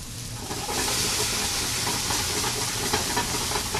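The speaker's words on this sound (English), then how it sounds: "when the fire is catching up, it actually helps cooking" Flames catch while beef braises, giving a loud, steady rushing hiss and roar of fire that runs unbroken and close throughout.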